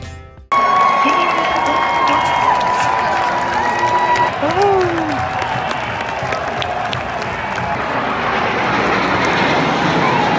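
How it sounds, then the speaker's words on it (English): Loud roar of P-38 fighter planes passing overhead at a military college parade, engine drone swelling with a pitch-shifting whine, and a crowd cheering and clapping beneath it. "good flyover with P-38s"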